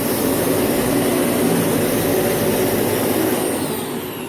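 A Dyson Cinetic Big Ball Animal Plus Allergy vacuum cleaner runs at close range indoors, producing a loud, steady roaring whoosh that eases off slightly toward the end, with no talking.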